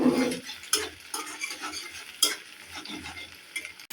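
An egg frying in a pan over lowered heat for noodles, stirred with a utensil: soft sizzling under repeated sharp scrapes and clinks of metal against the pan, close and clear, no voices.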